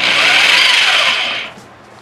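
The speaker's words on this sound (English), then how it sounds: "Power drill connected to the table." Power drill clamped to a table as an improvised lathe, spinning PVC pipe, whirs loudly and steadily for over a second, then winds down and fades with no talking.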